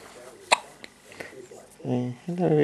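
A baby gives a single sharp hiccup up close, followed by a voice speaking softly.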